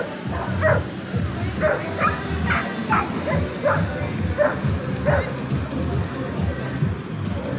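Dogs bark and yip repeatedly at a canicross race in Caudry, a string of sharp close barks over steady crowd babble and outdoor hubbub.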